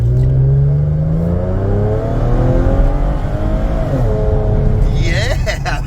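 A 2015 Camaro V6 with a custom Black Widow exhaust is revved hard at full throttle, its loud, throaty tone climbing and falling in pitch close by.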